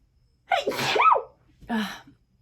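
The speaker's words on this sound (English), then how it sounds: "I have a sneeze coming." A single loud, close sneeze with a sharp intake and burst, followed a moment later by a shorter breathy exhale.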